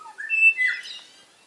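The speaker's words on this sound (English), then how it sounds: "Spring has sprung. Angels. The angels are here. Eastern Rosellas." Eastern Rosella birds calling in spring, a few clear whistled notes rising and sliding, moderately close, then fading into quiet.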